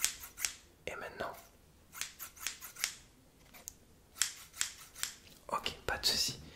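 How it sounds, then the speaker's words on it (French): Sharp scissor snips in quick clusters, close and crisp, a dozen or so metallic cuts separated by brief pauses. "je vais faire des petits bruits de ciseaux"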